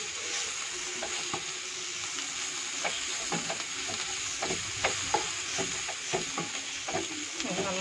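Masala sautés in a pan for vegetable noodles, a moderate sizzle broken by repeated scraping and tapping of a spoon as it is stirred, close and steady.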